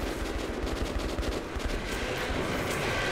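Dense, continuous automatic gunfire in the video game Metro 2033 Redux, loud rapid bursts filling the whole stretch without a break.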